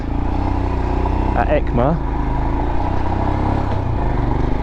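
Royal Enfield Himalayan motorcycle running on a test ride, a steady engine drone and wind rumble throughout while a rider talks over it.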